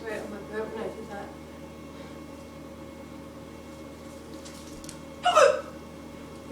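A person with hiccups lets out one sharp, close hiccup near the end, following some quiet breathing and faint vocal sounds.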